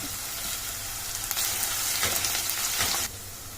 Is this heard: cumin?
yes